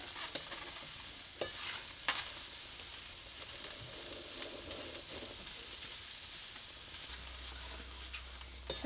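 Raw tomatoes roast on a wood-fired clay stove, giving a soft, low crackle and occasional sharp scraping taps as they are pressed and turned; faint and fairly close, with no voices.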